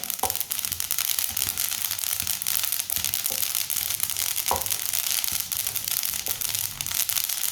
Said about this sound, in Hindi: अलसी के पकने की आवाज़ आ रही है